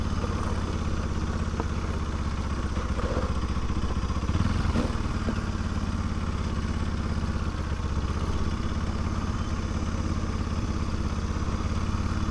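A motorcycle rolls slowly along a sandy road near Kaigal waterfalls, its engine a low, steady, even chug that is close and continuous throughout.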